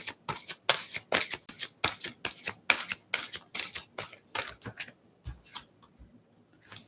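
Tarot cards riffle-shuffled in quick, crisp bursts, a steady run of sharp flutters that thins into a few scattered taps near the end, close up with no voices.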